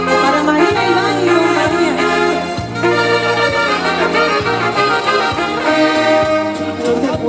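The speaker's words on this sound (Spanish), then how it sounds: "vamos a bailar estos lindos valses rancheros que suenan así de bonitos" Live band playing a ranchera waltz at the San Froilán festival in Lugo, with a loud, steady three-beat bass and chord pulse under a melodic lead, continuous and close.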